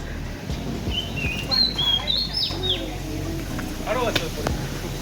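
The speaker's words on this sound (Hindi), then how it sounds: "यहाँ कुछ अलग तरह की चिड़िया नज़र आ रही हैं हमें" Unusual birds chirp in a Thai jungle near Phuket, several thin high calls scattered through a few seconds over steady outdoor hum, with talk in the background.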